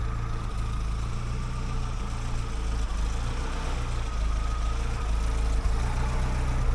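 A 1956 Willys CJ5 with a newly fitted engine idles steadily up close, a smooth, even low rumble holding constant throughout with no voices.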